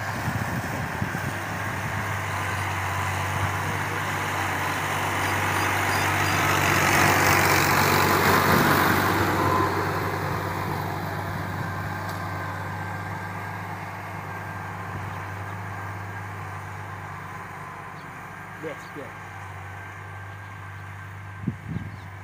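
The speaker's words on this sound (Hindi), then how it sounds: "निकल गया ट्रैक्टर" A tractor engine idles with a steady low rumble, then swells louder as it pulls away and fades into the distance, leaving faint background sounds.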